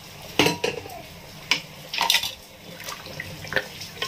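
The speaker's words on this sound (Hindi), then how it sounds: "इस तरह हिला के लूँगी" Meat and water stirred in a metal cooking pot for a meat and gourd lentil dish, giving scattered clanks and scrapes of a utensil against the pot with light sloshing, close up and without talk.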